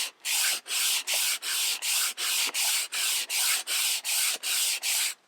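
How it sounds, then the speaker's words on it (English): A wooden cutting board's juice groove is sanded by hand in about a dozen even back-and-forth strokes, each a close, steady rasping rub separated by brief pauses. "whatever grit I sand the surface to, I do the same thing on the juice grooves"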